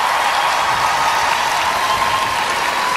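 A large crowd inside Gamelin Ice Arena applauds an Olympic ice dance free dance, a dense, sustained wash of clapping and cheering that holds steady and loud the whole time.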